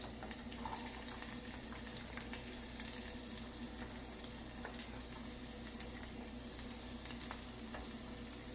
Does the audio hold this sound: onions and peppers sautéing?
yes